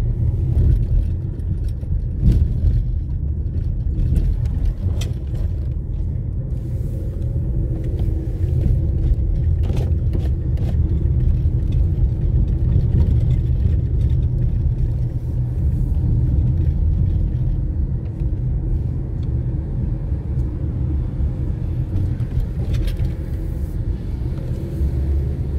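A car rolls through a residential community over speed bumps, its engine rumbling low and steady with occasional thumps from the bumps, no talk.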